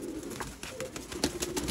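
Sialkoti Batera pigeons coo in short, soft repeated notes, close by and fairly quiet, with no voices over them.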